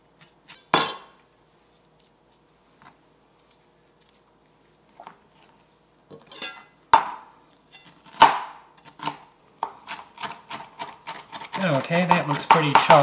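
Knife chopping seeded vegetables on a board for a broccoli cheese and rice casserole, starting with a few sparse cuts and building into quicker, denser chopping that turns steady near the end, heard close with no talk.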